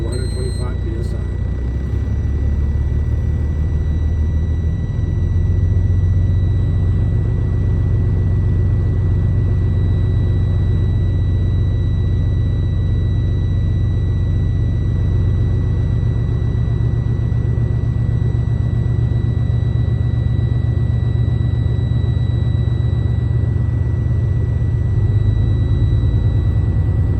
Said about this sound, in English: I'm going to start the truck back up